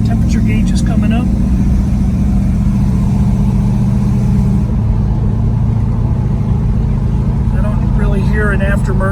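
A 1967 Dodge Coronet 440 drives along with its engine running steadily, a loud continuous low rumble filling the cabin, with a brief voice near the start and again toward the end.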